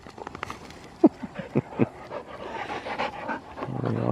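A dog pants rapidly and heavily close by, quick rhythmic huffs with a few sharper breaths mixed in.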